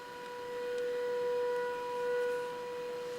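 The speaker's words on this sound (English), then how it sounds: "all of a sudden tornado siren kick in" A steady, droning tornado warning siren holds a single tone, swelling slightly in loudness as it sounds from a distance.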